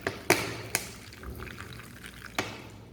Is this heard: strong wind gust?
no